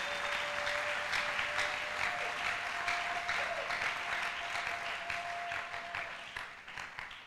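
A church congregation applauds, dense steady clapping from many hands that fills the space, holding strong before slowly thinning toward the end, with a faint sustained tone running beneath.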